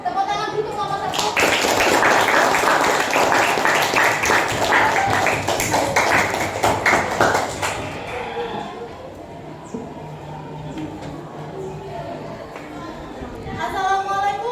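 Classroom applause for the first student group, dense rapid clapping loud for about eight seconds and then thinning out, with children's chatter running underneath.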